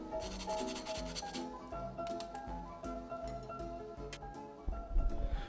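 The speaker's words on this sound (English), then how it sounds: "use our butter knife to scrape off the burnt bits" A butter knife scrapes burnt bits off the bread of a grilled cheese sandwich in a steady series of close, rasping strokes over a faint musical background, with a slightly heavier rub near the end.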